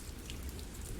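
Heavy rain pouring down in the video game Glory Hounds, a dense, steady low wash of falling water with no distinct drops or voices, brief and faint.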